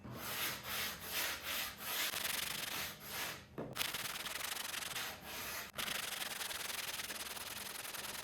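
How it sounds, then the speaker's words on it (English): Rhythmic scratchy strokes of coarse sandpaper rub back and forth against a boat hull surface, close and steady, with a few brief pauses between passes. "I'll just keep sanding it until it looks good"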